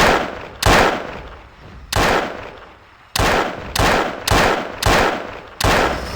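Gunfire aimed at a Spinosaurus in Trespasser: seven loud, punchy shots in an uneven rhythm, each followed by a long echoing decay, with no talk between them.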